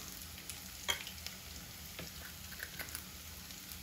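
Fenugreek and mustard seeds sizzle in hot oil for a turmeric pickle, a quiet, steady frying hiss dotted with small crackles and pops, close but faint, with no talking.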